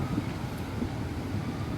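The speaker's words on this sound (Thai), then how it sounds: "ลมแรงนิดนึงนะครับ" Strong outdoor wind buffeting the microphone, a steady low rushing roar with no talk, fairly quiet.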